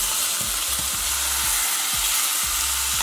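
Tomatoes hit a hot pan for a homemade sauce, sizzling steadily while a spoon scrapes and stirs in an even rhythm of repeated strokes, close and alone.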